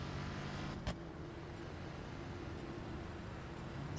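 Steady engine hum of a car in Watch Dogs, with a brief click near the start, as the vehicle rolls and gently accelerates, moderately loud and unbroken by speech.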